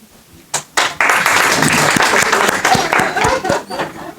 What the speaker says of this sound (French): Je suppose que cela mérite des applaudissements